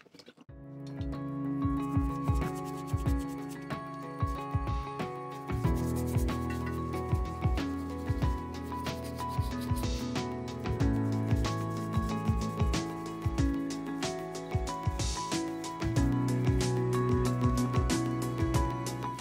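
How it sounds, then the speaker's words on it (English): Old brushes scrubbing white spirit over grimy parts of a Record No 23 quick release vise, quick repeated scratchy strokes in steady bursts close by, with faint metallic clinks and no speech. "I used white spirit and some old brushes to soften up the worst of the clag."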